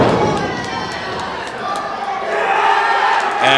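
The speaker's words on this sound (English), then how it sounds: "Listen to this crowd. This is going to be it. The crowd is electric here." A live wrestling crowd at an independent show in Sedalia, Missouri roars and cheers loudly and continuously, swelling toward the end, with shouting voices mixed in.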